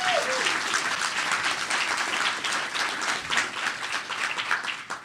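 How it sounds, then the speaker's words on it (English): Sustained applause from a large audience at a university new venture competition finals, dense steady clapping filling the hall for the full stretch. "Please give yourselves a round of applause to kick this off."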